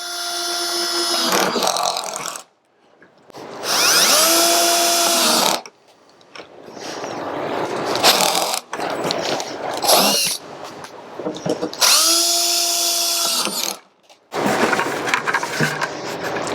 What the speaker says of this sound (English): we're going to drill holes in them.